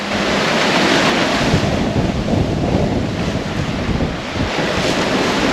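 Strong wind roars steadily across the microphone aboard a sailboat at sea, a loud continuous rushing with the wash of waves blended in, no voices.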